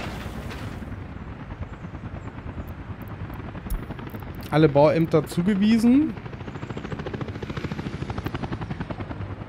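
A helicopter flies in the Workers & Resources video game, a steady rotor chop running throughout under someone speaking, with a brief synthetic voice line partway through.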